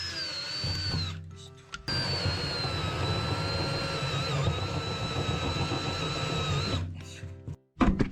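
A power drill bores rivet-nut holes into the body of a 1973 Volkswagen Type 2 camper under restoration, a loud steady whine with a drifting high tone that runs almost continuously, broken by two short pauses.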